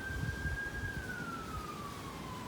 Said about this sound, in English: Yeah, I hear the ambulance